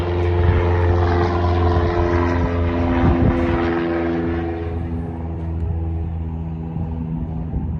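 A Piper Archer single-engine propeller plane in flight gives a steady, loud, close droning engine and prop roar that stays constant throughout, with no talk.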